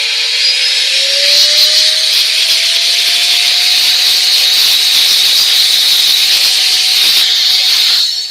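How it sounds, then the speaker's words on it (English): A close, steady blast of compressed air hisses continuously for about eight seconds while dust is blown off a potentiometer, with a faint whine rising in pitch under the hiss. "We give it a bit of a blowing first because it'll be covered in dust."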